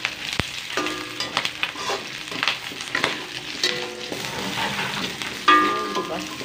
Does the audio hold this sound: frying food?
yes